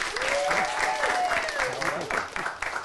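A studio audience applauds a guest, Dr. Janine Aronson, as she arrives on a talk show, with loud, continuous clapping and some voices and whoops mixed in.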